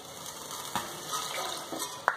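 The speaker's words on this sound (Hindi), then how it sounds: "तो 1 कप पानी डाल देंगे।" Water pours steadily into a pot on a gas stove while vegetable pulao is being cooked, a soft continuous splashing trickle with a small splash near the end.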